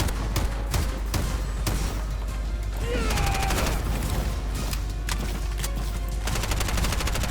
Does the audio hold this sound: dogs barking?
no